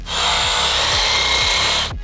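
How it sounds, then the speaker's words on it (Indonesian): Power drill boring into wood at close range, a loud steady whirring grind with a few rhythmic pitch sweeps, running alone for about two seconds before cutting off. "Ayo Armando, bor di sini"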